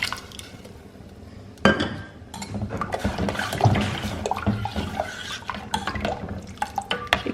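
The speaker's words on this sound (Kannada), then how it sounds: "1 ಕಪ್ಪಷ್ಟು ನೀರು ಹಾಕಿಬಿಟ್ಟು ಆ ತೊಗರಿಬೇಳೆನ ನಾನು ಇದರೊಳಗಡೆ ಆ್ಯಡ್ ಮಾಡ್ತೀನಿ." Water and cooked toor dal go into a cooking pot: a sudden splash and pour, then clinking of a utensil against the pot and sloshing liquid, close, with no talk.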